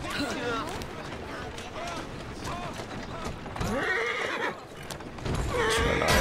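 A horse in the video game Assassin's Creed Syndicate whinnies several times, with clip-clopping hooves and carriage noise in between, while someone talks over the game sounds.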